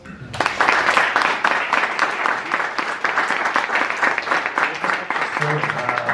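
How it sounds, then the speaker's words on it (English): An audience applauds after a tech talk on building technology companies, a sudden loud burst of many clapping hands that stays dense and sustained, with a faint voice near the end. "Big applause."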